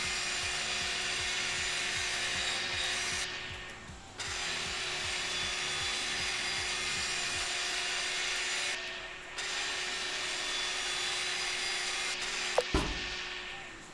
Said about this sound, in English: Grinder disk wear out, install a new one to keep working.